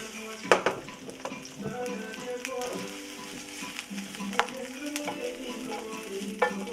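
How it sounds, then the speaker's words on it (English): Asparagus sauteing in a pan produces a low sizzle under repeated clinks and scrapes of a utensil against the pan. "I'm sauteing the asparagus."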